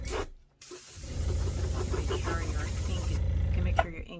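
A steady hiss of an airbrush spraying runs beneath a low motorized hum, with a brief pause near the start and a sharp click near the end.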